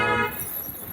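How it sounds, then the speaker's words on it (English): A short car horn toot sounds at the start on a busy Danang street, then fades into general traffic noise. "When you hear horns honking"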